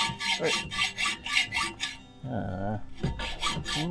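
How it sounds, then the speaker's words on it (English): Hacksaw rasping through a pipe in rapid back-and-forth strokes, a quick rhythmic scraping that pauses briefly midway as a tonal squeal rings out, then resumes. "let's try cutting this pipe. We got our hacksaw here."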